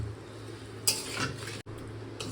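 Potol posto, pointed gourd in a poppy seed and mustard paste with yogurt, simmering in a pan with a soft sizzle, a couple of scraping stir strokes and a brief utensil clatter.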